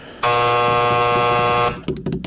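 A loud, steady electronic buzzer blares for about a second and a half, then cuts off as clattering noises follow, on a sports podcast.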